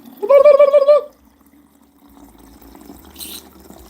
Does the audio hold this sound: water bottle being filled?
yes